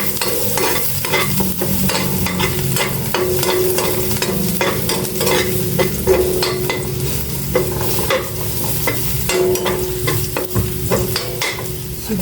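Garlic fries in a pan with steady crackling sizzle and frequent utensil scrapes and clacks from stirring, close and continuous, with no voices.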